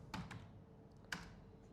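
A few light clicks of typing on a computer keyboard, faint and close, with a couple of spaced keystrokes over a quiet background.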